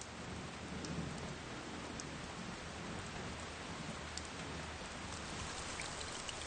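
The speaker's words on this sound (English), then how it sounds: "If the fox is not to starve, she must get whatever food she can before the rain gets heavier." Rain pours down in summer on the high plateau of Sanjiangyuan, an even, dense hiss of drops on the ground with a faint low rumble like distant thunder beneath.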